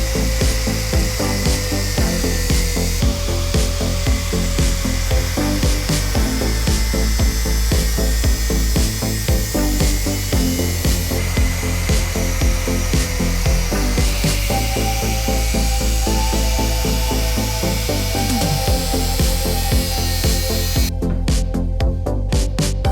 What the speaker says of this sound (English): So let's start the cutting.